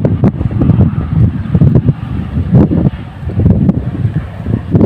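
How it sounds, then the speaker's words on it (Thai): Strong, cold wind blowing outdoors, gusting and buffeting the microphone in loud, uneven surges with rustling underneath, no talking over it. "ลมแรงนะครับผมลมแรงบรรยากาศดีครับบรรยากาศหนาวๆครับผม"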